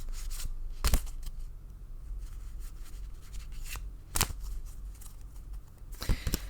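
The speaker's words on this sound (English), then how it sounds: "I shuffle until Spirit tells me to stop." Tarot cards shuffled by hand at close range, a soft continuous riffle and rub of card stock broken by a few sharp slapping snaps as the deck is squared.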